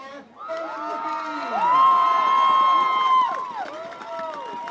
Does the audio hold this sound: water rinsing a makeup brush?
no